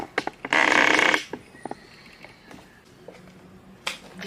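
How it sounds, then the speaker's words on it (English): A door makes a short burst of creaking and scraping noise, with a few sharp clicks and knocks before and after, fairly close in a quiet room. "The door just went,"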